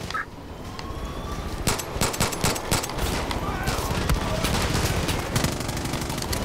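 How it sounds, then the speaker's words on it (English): Pistol gunfire in Far Cry 5 while parachuting, with repeated sharp shots in irregular bursts over a dense background of other gunfire and game noise. "I'm over here just shooting everybody down with a pistol."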